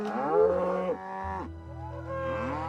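Orkney crossbred cattle, largely Angus-based, moo loudly and close by, one long low bellow sliding in pitch followed by a second drawn-out moo, with no talk.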